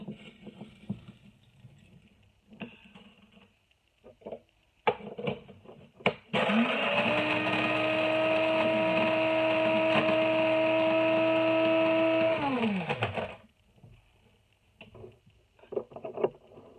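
A blender grinds dried onion flakes and mushroom flakes into powder in one loud, steady motor run of about seven seconds, its pitch holding level then dropping as it winds down, with softer clatter before and after.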